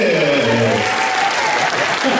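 An audience applauds a knife thrower's act with loud, steady clapping that fills the whole moment, while voices talk over it.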